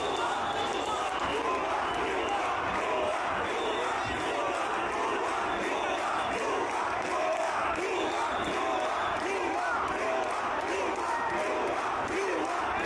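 Large crowd of anti-quota job-seeking protesters, many of them students, chanting slogans in unison at a street demonstration facing police; a dense, continuous roar of massed voices, loud and sustained throughout.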